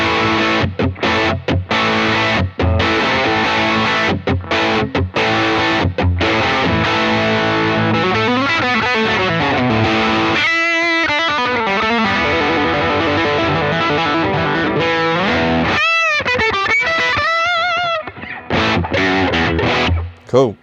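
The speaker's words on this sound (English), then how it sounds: "here is a bit of AT Plus." Overdriven electric guitar through an AT Plus overdrive pedal, loud and close, moving from choppy stabbed chords with short gaps into sustained, singing lead lines and bends, then returning to chopped chords before a final ringing hit.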